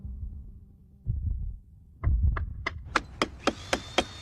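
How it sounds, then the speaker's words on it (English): The Mind Flayer heartbeat sound effect from Stranger Things builds from low muffled throbs into a run of sharp, evenly spaced beats that grow louder and quicker toward the end, heard alone. "that was the exact same sound effect given to the heartbeat of the Mind Flare"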